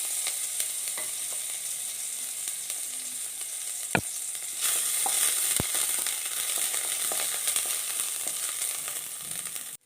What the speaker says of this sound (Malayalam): ഒരു ടീസ്പൂൺ വെളിച്ചെണ്ണ ഒഴിച്ച് അതിലേക്ക് ഒരു ചെറിയ കഷ്ണം ഇഞ്ചി ചതച്ചത് കൊടുക്കാം